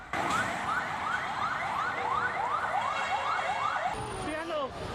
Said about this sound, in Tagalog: Dumagsa na sa lugar ang mga fire truck.